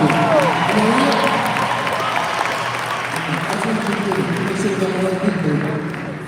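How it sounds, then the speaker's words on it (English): Audience applause at an investment festival talk, a steady broadband wash of clapping that holds for about six seconds and eases slightly midway, with a voice talking over it. "y'all should clap a little louder than that"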